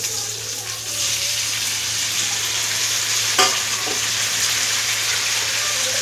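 Cut lemon pieces sizzle and fry in a pan while being stirred for lemon pickle, a steady bright hiss of hot oil close up, with a brief clink of the stirring utensil midway.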